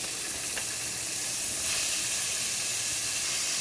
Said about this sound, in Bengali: এই তেলের মধ্যেই আমি এই যে 100 গ্রাম চিংড়ি মাছ ধুয়ে পরিষ্কার করে রেডি করে রাখছি, এটা একটু ভেজে নিব